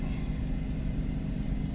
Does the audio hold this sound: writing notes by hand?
no